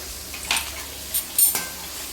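Onions fried golden in oil for rava kichadi, giving a soft sizzle with a few brief bursts of stirring and scraping in the pan.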